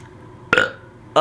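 Two loud, close burps come one after another, a longer one and then a short one, against a quiet room.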